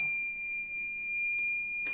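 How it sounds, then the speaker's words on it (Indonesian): A thermistor temperature alarm circuit built with a transistor sounds its buzzer, a steady high electronic tone holding continuously and fairly loud throughout. "alarm akan bunyi, buzzer akan bunyi"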